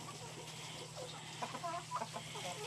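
Chickens clucking softly while dust bathing, a few scattered short clucks and murmurs growing slightly busier toward the end over a low background hum.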